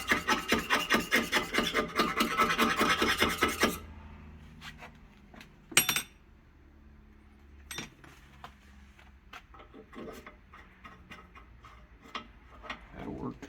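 Rust being scraped or filed out of a part on a Ram 3500 Cummins truck, a fast rhythmic rasping for several seconds that then stops, followed by scattered clicks and clinks of tools being handled nearby.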